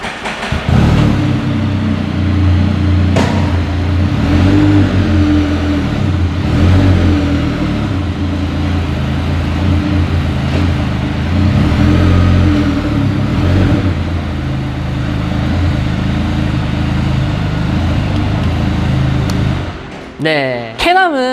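A Can-Am Spyder RT three-wheel motorcycle engine runs close by for about twenty seconds, idling and revving up and down repeatedly while moving forward and back, then sputters near the end.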